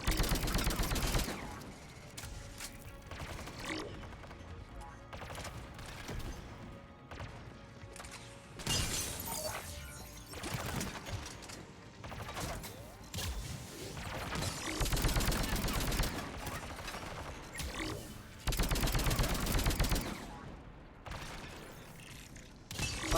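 Dense, continuous gunfire from a Mass Effect 3 battle, with sharp sniper rifle cracks and rapid bursts overlapping mechanical clatter, loud throughout and recurring in heavy clusters.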